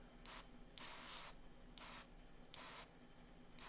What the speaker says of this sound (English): So at that point, just take your sprayer